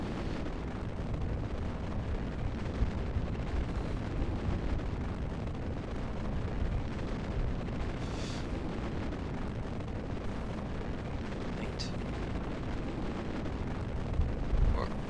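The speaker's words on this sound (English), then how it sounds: "Ignition. And liftoff of MOCO!" Rocket engine ignition and liftoff in Kerbal Space Program, a loud, continuous roaring rumble that fills the whole stretch without letup, with no voices over it.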